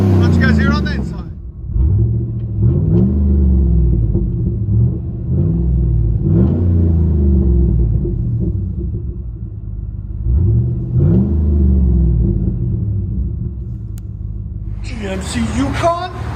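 Heard from the cabin, a 2008 GMC Yukon 6.2-liter V8 with Flowmaster Outlaw exhaust drones low and steady, with about five rev swells rising and easing, and brief speech at the start and end.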